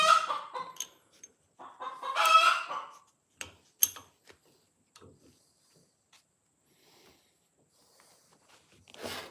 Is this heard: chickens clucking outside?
yes